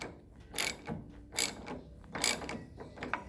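A hinge pin removal tool is turned down against a door hinge, giving a few close, bright ratcheting clicks in repeated bursts with quiet pauses between them.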